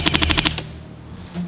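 An airsoft gun fires a rapid burst of about six BBs into carpet-style EVA foam, sharp evenly spaced cracks followed by a fading rattle and silence.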